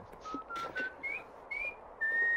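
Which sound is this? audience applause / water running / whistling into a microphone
whistling into a microphone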